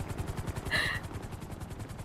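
A helicopter in the video game GTA 5 keeps up a steady, rapid rotor thump throughout, with a brief hissing burst near the start of the second second.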